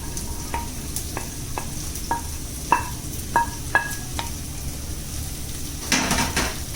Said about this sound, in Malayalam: ഇനി എല്ലാം ഒന്ന് മിക്സ് ചെയ്ത് കൊടുക്കാം